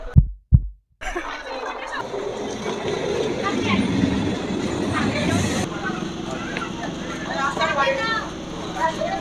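A train pulls into a station platform, a steady, loud, broad rumble that starts after a couple of low thumps and holds close by for several seconds.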